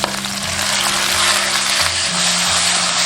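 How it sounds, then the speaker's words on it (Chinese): Beef stir-frying in hot oil with scallion, ginger, garlic and small chili peppers in a wok, a loud continuous sizzle close up with clattering stirring underneath. "炒香后下入牛肉，快速滑撒"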